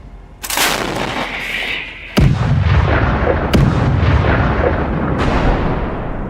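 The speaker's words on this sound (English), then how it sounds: "As soon as Russian vehicles group, Ukrainian artillery opens fire with American M777." Artillery from American M777 howitzers booms in a combat zone, several heavy blasts and shell impacts in succession, loud and rumbling with rolling echoes and sustained noise between the strikes.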